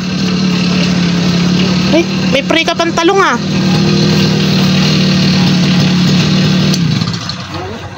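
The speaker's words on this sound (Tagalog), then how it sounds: "Start na tayong grass cutter." A grass cutter's engine hums steadily at close range, a constant mid-low drone with a brief burst of revving or rattling in the middle, while someone speaks over it.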